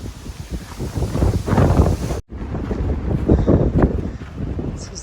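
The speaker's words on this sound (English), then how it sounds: "This is the windiest it's been on trail for us." Strong wind buffets the microphone on a sandy Tahoe Rim Trail section near Mount Rose, a loud continuous roaring rumble with gusty surges and one brief drop-out, no voices.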